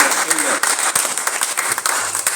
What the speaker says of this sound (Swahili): Pigie Yesu makofi mazuri.